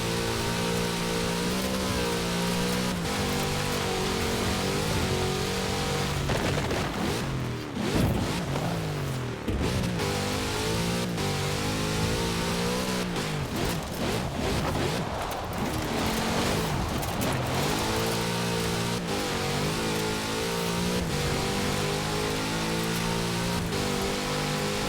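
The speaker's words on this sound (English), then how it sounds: "Such power in the big Chevrolet engine." A big Chevrolet car engine in Forza Horizon 4 roars steadily over rough ground, a sustained loud drone with shifting revs and gritty, rumbling tire and surface noise throughout, with no talking.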